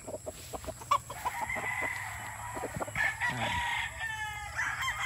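A Boston Roundhead gamecock crows up close on a rooster farm, one drawn-out call that rises and falls, while other chickens cluck around it and a steady hum runs underneath.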